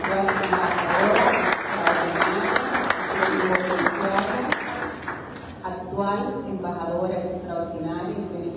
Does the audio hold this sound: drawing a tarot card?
no